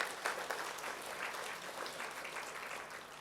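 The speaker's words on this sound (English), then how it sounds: "Can I have a round of applause for Atomy" A seated audience at an Atomy Malaysia product introduction gives a brief, steady round of applause, a dense patter of many hands with no voices over it.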